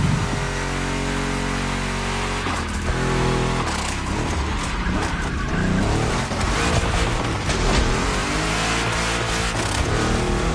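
Two Chevrolet big-block cars, one a 1,000-horsepower Camaro, race in the video game Motorfest, their engines roaring loud and constant with tire squeal layered throughout.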